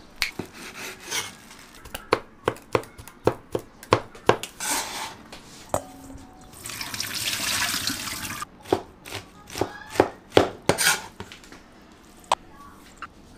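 A cleaver chops pork from a pork knuckle on a board for pan-fried buns, sharp irregular knocks in quick bursts, with a short stretch of running water midway.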